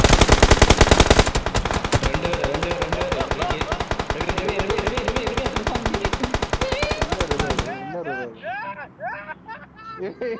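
Rapid automatic gunfire in PUBG Mobile, loud fast regular bursts running continuously for several seconds before stopping, while players talk excitedly over and after the shooting.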